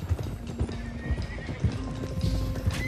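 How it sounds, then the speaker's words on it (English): Horses from Red Dead Redemption 2 being driven toward Clemens Cove, with a loose stallion among them: steady hoof clopping in an uneven rhythm under several neighs and whinnies, near and continuous. "One of the stallions is loose."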